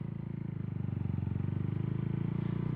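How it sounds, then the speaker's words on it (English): A Honda motorcycle pulls away gently from a stop as the clutch is let out, its engine giving a steady, close, fast-pulsing idle-to-low-rev putter with no talk over it. "letting out the clutch nice and gently, and we pull away"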